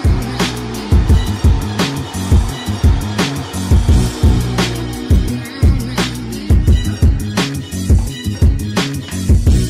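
A kitchen blender grinds ingredients into flour for cookie dough, a loud motor churning in rough, repeating pulses as the contents knock and tumble, close and sustained throughout.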